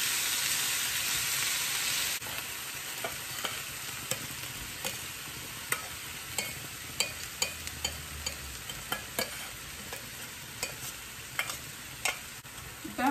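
Spoon stirring a mixture of pulses, coconut, jaggery and chili in a pan over medium heat, with soft sizzling and a run of repeated scraping taps, close and alone with no talking.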